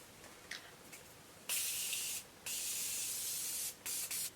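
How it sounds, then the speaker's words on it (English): Several short spritzes of Morphe Continuous Setting Mist makeup spray, then two long continuous hissing sprays and a few quick bursts, close and clear with no talking. "I'm just going to add a little bit of Morphe Continuous Setting Mist."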